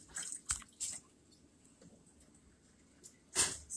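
Corn cobs rubbed by hand under a little water in a kitchen sink, giving several wet squishing swipes and drips, sporadic and close, with quiet gaps between them.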